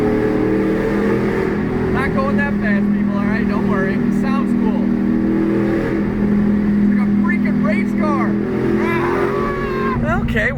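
A modified Pontiac Trans Am WS6 held in third gear on a cruise through the Pennsylvania countryside, its engine a loud, steady low drone heard from inside the car with rising and falling revs, while a voice talks over it.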